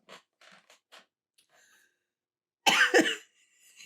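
A person coughs in a short, harsh burst of two or three close, loud coughs, preceded by quieter breathing and small movement sounds.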